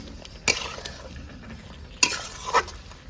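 A spoon stirring cauliflower through chicken curry gravy in a pan gives two or three distinct scraping knocks against the pan over a soft steady sizzle, close up, with no one speaking.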